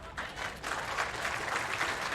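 Audience applause at a live speedrun stage event at PAX East, a steady wash of clapping from a crowd lasting throughout.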